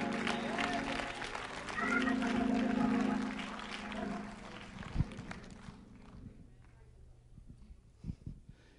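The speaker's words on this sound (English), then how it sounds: "I think I ought to get a good hand clap right now" A church congregation claps and cheers in a swelling burst that fades after a few seconds into scattered shuffles and a few isolated thumps, with a voice speaking over it.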